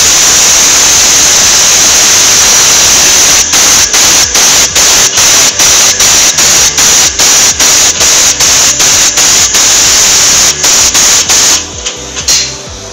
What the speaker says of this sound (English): Power flush the fluid passageway completely with the power pistol.